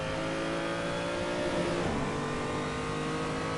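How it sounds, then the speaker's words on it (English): A race car's engine roars loud and steady on track, its pitch dipping briefly mid-way before climbing again as it revs on, with no talking. "your car does sound like a beast"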